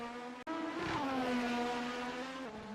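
Engine of a 1986 Formula 1 car in a sim racing hillclimb game, a loud steady high-revving drone that wavers in pitch, with a brief cut near the start.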